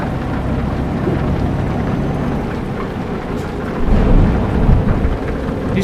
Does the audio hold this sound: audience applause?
no